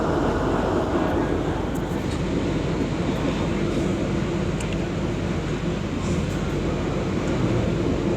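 A KA Bias passenger train rolls steadily along the line from Purwosari toward Klaten near Gawok station in Indonesia, a dense, continuous rumble and clatter heard from onboard, with no pauses throughout.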